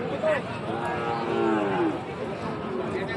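Cattle low at a busy livestock market selling young Sahiwal bull calves, with long drawn moos over a bustling crowd and voices in the background.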